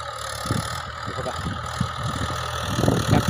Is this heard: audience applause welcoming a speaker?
no